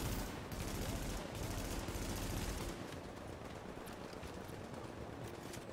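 A machine-gun turret in The Division fires a dense, sustained burst of rapid gunfire that fills the first half, then continues as a steadier, somewhat softer rattle of shots.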